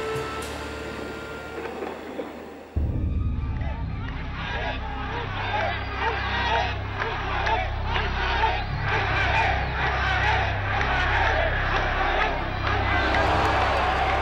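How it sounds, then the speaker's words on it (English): A large crowd of demonstrators in Egypt shouting together, a dense roaring mass of voices that bursts in suddenly and keeps going loud and steady, with a narrator's voice heard before it. "Here in Egypt, the demonstrators were shouting death at the Jews."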